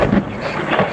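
Thunder rumbles loudly during a severe thunderstorm in Pittsfield, Massachusetts, a deep close roar with rain hiss underneath over a brief moment.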